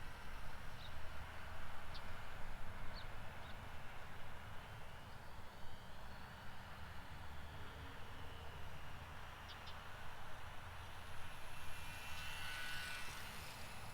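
An E-flite RC model airplane in slow, gentle flight, its faint electric motor a steady, distant whir that lingers evenly throughout, with a few light clicks and a soft rising tone near the end.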